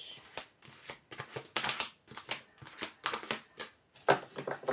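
Tarot cards being shuffled, handled and turned over at close range, with a rapid series of soft papery riffles and flicks coming in quick bursts, no talk.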